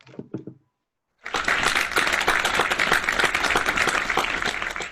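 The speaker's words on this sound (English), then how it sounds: "we need to do the clapping thing between that" After a couple of brief spoken syllables and a pause, a small group breaks into dense, steady clapping at a Toastmasters meeting, lively and close, lasting to the end.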